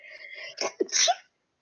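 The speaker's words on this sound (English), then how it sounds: "Whoever sneezed." During a tabletop role-playing game session, someone gives a single close sneeze in a quick two-part burst, preceded by a faint breathy sound, then silence.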